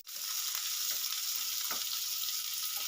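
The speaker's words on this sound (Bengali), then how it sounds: "এবারে দিয়ে দেবো কুচিয়ে রাখা পেঁয়াজ" Chopped onion dropped into hot mustard oil with black cumin seeds for a Bengali ivy gourd bhorta bursts into a sudden, steady sizzle, with a few faint stirring knocks and no voices.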